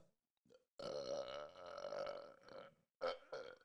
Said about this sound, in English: That was an empty stomach burp.